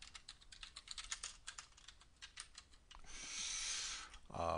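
Steady run of close computer keyboard typing, rapid even clicks for several seconds, then a brief soft hiss of movement before a final tap.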